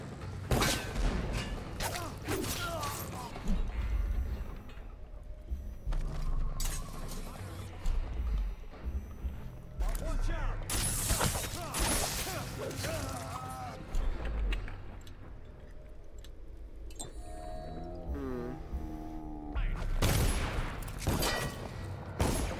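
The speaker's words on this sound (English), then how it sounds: "Where are the gunshots coming from?" Rapid bursts of gunfire in The Knife of Dunwall game, loud and repeated, with scattered thumps and mechanical clicks under a busy game soundscape.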